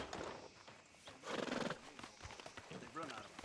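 Horse in Red Dead Redemption 2 whinnying and neighing with clip-clop hooves nearby, loud over a busy game soundscape, with speech-like voices mixed in.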